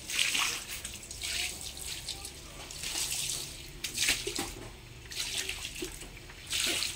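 Water being poured over a floor during cleaning, splashing in repeated gushes and trickles, fairly close, with short pauses between pours and no voices.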